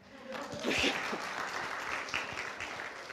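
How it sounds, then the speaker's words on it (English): Soft, moderate clapping from a congregation during a worship service, scattered hands swelling briefly then continuing at low, even loudness, somewhat distant. "If you just want to clap, that's okay"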